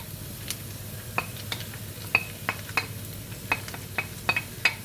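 Minced meat sizzles steadily in a pan, its liquid cooked off, while a utensil scrapes and taps against the metal several times at an uneven pace.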